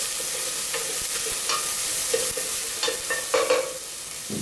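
Chopped onion and seasoning base frying in a pan for a fish chupin, a soft close sizzle with intermittent stirring scrapes and small clinks, no voices.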